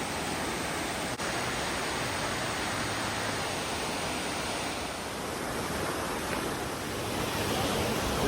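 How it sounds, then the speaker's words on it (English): Steady roar of High Falls in DuPont Forest, North Carolina, heard from the bottom of the cascade: a loud, continuous broadband rush of falling water that fills the whole stretch without breaks, with no voices. "This is on the bottom here on the waterfall."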